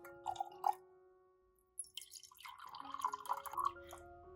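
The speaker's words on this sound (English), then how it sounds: "Add about 2 to 3 centimeters of water to the cup." Water trickles and splashes into a glass jar in short pours, with gentle ringing drips and a gurgling rise near the end; quiet and close.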